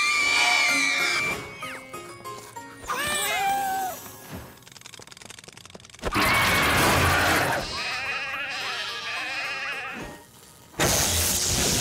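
Cartoon sheep let out a series of loud, wavering bleats in an animated show, the voiced cries repeating in bursts with short pauses between them.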